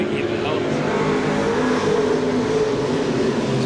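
A stock race car engine at Seekonk Speedway during a 1995 weekly race roars close and loud in a steady, unbroken drone, with a voice faintly under the noise.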